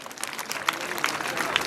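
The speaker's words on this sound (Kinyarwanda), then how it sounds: "Mwabikomera amashyi?" An audience gives light, scattered applause, a soft continuous patter of claps with a few sharper individual claps standing out.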